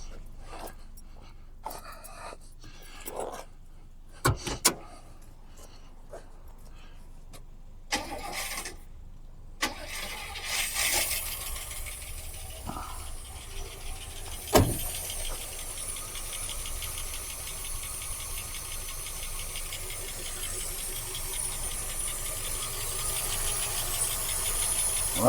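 An old car engine that sat unused for over 25 years being started: repeated cranking bursts, then it catches and settles into a rough, steady running roar that builds over time.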